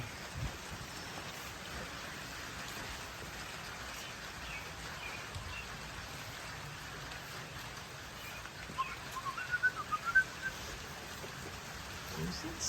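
Steady rain pattering on surfaces outdoors, a continuous soft hiss throughout with a few closer drips and small knocks toward the end.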